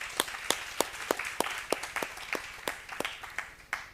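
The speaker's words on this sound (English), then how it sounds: "Let's give them a round of applause." Audience at a book launch in South Africa claps for student readers, a moderately quiet burst of scattered, distinct hand claps repeating irregularly for several seconds without voices.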